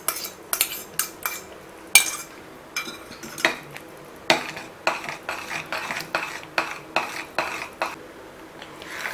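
A spoon stirs ghee into papaya kesari in a pan, making a series of distinct scraping and clinking strokes against the metal at an irregular, unhurried pace, close and clear with no voices.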